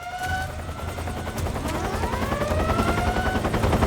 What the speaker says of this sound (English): there's the helicopter that Eva was talking